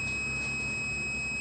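A multimeter in continuity buzzer mode sounds a continuous high-pitched electronic tone, steady and unbroken throughout, over a low background hum.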